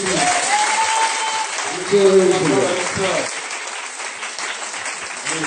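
Church congregation at an Easter Sunday thanksgiving service bursts into sustained applause, a dense clapping wash lasting several seconds while a preacher's voice speaks over it.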